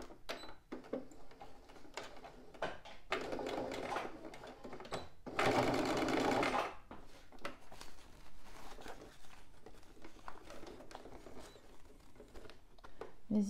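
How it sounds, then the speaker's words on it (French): A sewing machine stitches the outer fabric and lining of a pencil case together 1 cm from the edges, heard as a quiet whirring run amid scattered handling clicks and rustles of fabric. "Je vais donc coudre ici à 1 cm des bords"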